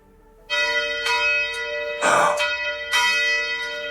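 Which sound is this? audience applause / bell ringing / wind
bell ringing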